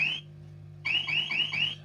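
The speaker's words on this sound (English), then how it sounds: "let's turn the alarm off now" An electronic alarm beeps in short, rapid, high-pitched pulses, first a single chirp and then a quick run of four repeating tones, loud and close over a low steady hum.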